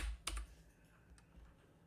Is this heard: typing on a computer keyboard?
yes